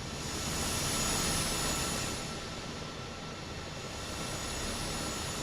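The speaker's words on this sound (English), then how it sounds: "This sounds like a jet turbine with no rotor effects." Steady jet-turbine drone of the SU5 helicopter in MSFS 2024 multiplayer, a constant broadband roar without rotor beat, holding level and alone.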